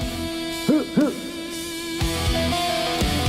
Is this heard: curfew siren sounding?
no